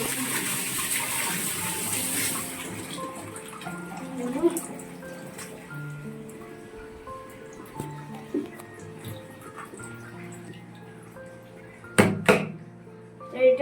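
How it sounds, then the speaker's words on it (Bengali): Tap water runs steadily while oily hands are washed under it in a home kitchen, a continuous gushing wash with faint clatter, and a person talks over it throughout. "তো হাতে আমার তেল লেগে গেছে ওই জন্য হাতটা ধুয়ে"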